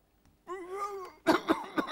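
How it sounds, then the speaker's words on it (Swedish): In a 1983 Swedish TV stage production, a drawn-out vocal strain gives way to a burst of three or four harsh, close coughs in an otherwise quiet room. "Fick bara en hostattack."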